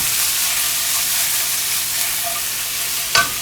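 Vegetables fry in a pan for a pasta alla Genovese, giving a steady close sizzle with a few soft stirring scrapes and a brief clatter at the end; nobody speaks.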